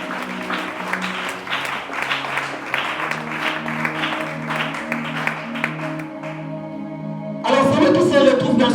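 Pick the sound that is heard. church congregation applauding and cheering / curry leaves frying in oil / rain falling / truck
church congregation applauding and cheering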